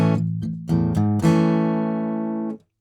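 A guitar plays a short phrase from the intro of a song, plucked notes building to a chord that rings out and sustains before being cut off.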